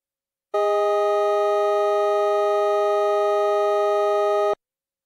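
A wolf fifth: a steady, sustained chord of two pure electronic tones, harsh and beating against each other, held for about four seconds, then cutting off abruptly.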